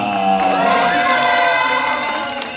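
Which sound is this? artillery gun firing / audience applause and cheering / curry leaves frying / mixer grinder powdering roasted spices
audience applause and cheering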